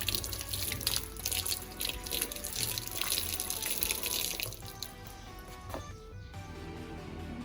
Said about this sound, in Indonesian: Setelah itu kita hidupkan kembali keran airnya dan bilas hingga bersih.